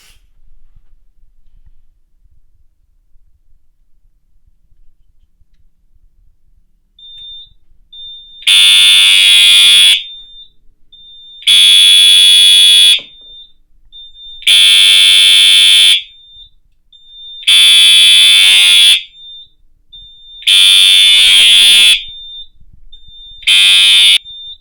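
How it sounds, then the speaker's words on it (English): Horns on a fire alarm panel, set to horn tone and tripped by a smoke detector test, sound in loud, regular bursts of about two seconds each, with a steady high tone running through them. "when I activate this, it will set off both of these alarms on this panel."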